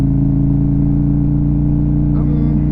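A KTM Duke 890R fitted with an SC Project exhaust idles close and loud with a steady, throbbing engine note, lifting briefly in a short rev near the end.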